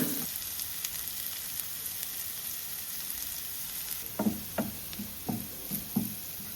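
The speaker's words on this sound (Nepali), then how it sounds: "तेल हाल्दैछु है कम्ती हाल्नुपर्छ है यो प्याज पनि हाल्दैछु" Onions sizzle in a small amount of hot oil in a pan, a steady close hiss with a few knocks and taps of a spoon stirring near the end.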